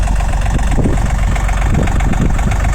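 A tractor engine idles steadily up close outdoors on a cold, snowy day, with a low, even rumble and no speech.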